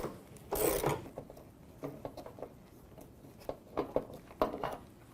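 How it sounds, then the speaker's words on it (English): A tool works loose the 10mm shipping bolts on an Electrolux front-loader washing machine, giving scattered scraping, rubbing and metallic clicks at close range, with a few sharper knocks. "let's go ahead and let's take our shipping bolts out"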